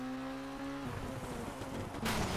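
Rally car in Colin McRae Rally 2.0 on a stage: a steady engine drone cuts off abruptly into a rough rattling crash noise, ending in a louder burst of scraping impact.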